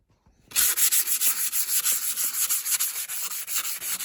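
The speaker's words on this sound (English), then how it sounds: "I guess sandpaper would go over it because they're same hardness, and maybe that'll do it" Sandpaper rubs back and forth across a metal part from a three-phase Cadet grinder, a loud, close, rhythmic scraping of repeated strokes that starts after a brief quiet moment.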